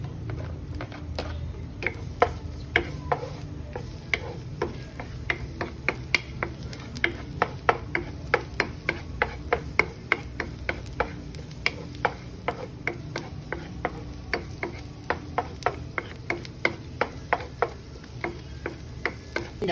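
Garlic going into a pan of spicy pork belly, heard as steady sizzling with a rapid run of regular sharp clicks and scrapes from stirring, close and fairly quiet, with no talking.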